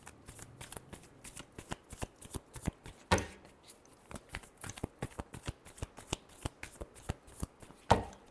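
Cards shuffled by hand during a Libra tarot reading: a rapid series of crisp riffling flicks and slaps, close and fairly quiet, with a couple of louder snaps, no talk.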